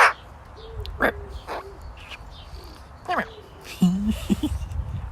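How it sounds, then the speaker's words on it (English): Blackbirds and robins sing outdoors over background noise, some calls sharp and near, others fainter, with a few louder harsh calls toward the end. "Got blackbirds and robins going off their heads in the background."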